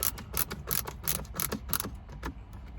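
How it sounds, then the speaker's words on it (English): A ratcheting screwdriver turning while installing USB ports in a Volkswagen MK5/MK6 Jetta or GTI, a steady series of close, crisp ratchet clicks in rhythmic bursts, with no talking. "ratcheting screwdriver, excellent tool for any job."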